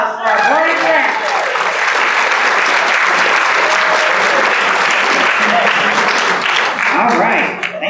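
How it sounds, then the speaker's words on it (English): A roomful of Rotary Club members gives a loud, sustained round of applause for their Board of Directors at a club meeting, with someone talking over the clapping at the start and the end. "round of applause for our Board of Directors"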